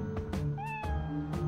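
A cat in the video game American McGee's Grimm gives one clear, rising meow over steady game tones and soft background sounds.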